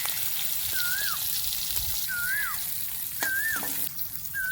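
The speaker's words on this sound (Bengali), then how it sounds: "এবার আমি দিয়ে দেবো পেঁয়াজ কুচি, ওই তেলের ওপরই দিয়ে দেবো।" Chopped onion fries in hot oil with a steady, close, dense crackling sizzle, while bird calls chirp repeatedly in the background.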